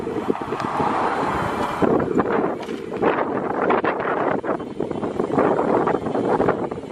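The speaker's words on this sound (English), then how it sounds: "With a headwind." Heavy wind buffets the microphone steadily while cycling into a headwind on a Central European bike tour, a loud, continuous roaring rush with gusty swells and no clear voices.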